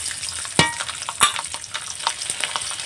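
Dried red chillies and fresh green and ripe chillies frying in hot oil, crackling sizzle with a couple of sharp pops and spatters over a steady hiss, close up with no voices.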